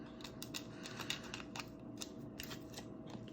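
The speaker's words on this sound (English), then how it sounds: "I'll take a little pair of scissors" Small scissors snipping during an iPhone 7 screen replacement, a quick run of crisp, close, light clicking cuts in an uneven rhythm over a quiet background hum.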